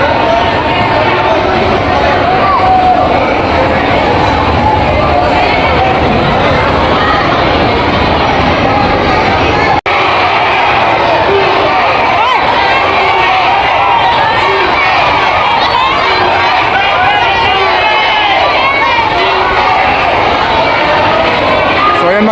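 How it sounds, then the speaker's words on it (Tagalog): A large crowd outside CC Mall in Cotabato City loudly shouts Duterte's name, a dense, unbroken roar of voices that stays steady throughout. "isinisigaw ho ng mga kababayan natin dito sa Cotabato City yung pong pangalan ni Duterte"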